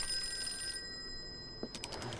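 A telephone rings in the Call of Cthulhu video game, giving a short electronic ring before a gap and then another burst near the end, with faint background tones.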